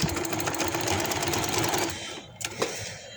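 Sewing machine stitching a joint lace, a fast steady mechanical whir running close for about two seconds, then stopping, followed by a couple of small clicks and handling sounds.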